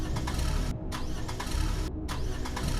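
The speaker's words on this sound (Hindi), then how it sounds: "गुल्ली गाड़ी स्टार्ट करता है लेकिन गाड़ी तो स्टार्ट ही नहीं हो रही है" A car engine repeatedly cranks without starting, a harsh, churning grind with short gaps between attempts, close and fairly loud throughout.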